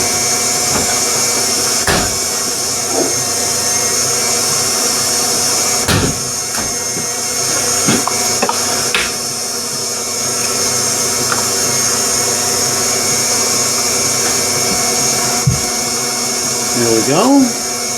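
An electric mixer whirs steadily through sugar cookie dough for Amish sugar cookies as an egg is beaten in, a continuous close motor drone with a few knocks and scrapes, and a voice speaks briefly over it.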